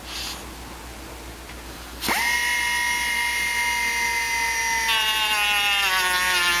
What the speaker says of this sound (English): the pneumatic tool bogs down a little bit